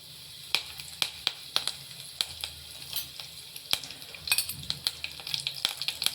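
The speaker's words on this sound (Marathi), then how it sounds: "आता त्यात ना जिरं मोहरी टाकून घेऊया आणि कढीपत्ता टाकूया थोडासा कट करून" Cumin seeds, mustard seeds and cut curry leaves hit hot oil in a pan, crackling and popping in quick irregular bursts over a bright, steady sizzle, close up and fairly loud, with nobody speaking.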